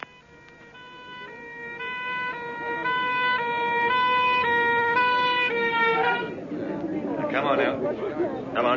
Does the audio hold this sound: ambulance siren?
yes